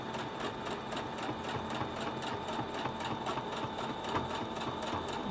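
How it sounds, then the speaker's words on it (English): A sewing machine stitches a fabric mask with a fast, even rhythmic clatter that runs steadily and close throughout, with no voices. "Okay, I'm just stitching up."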